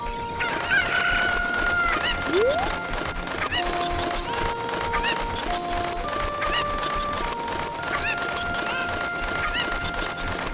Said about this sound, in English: As you can hear, the cuckoos are not happy that we have been pulling them around a bit